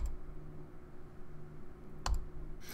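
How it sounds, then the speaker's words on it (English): Single mouse clicks on a send button in a Bitcoin wallet, a sharp close click about two seconds in and another faint one near the end, over a low steady room hum with no talking. "Go down here and click send."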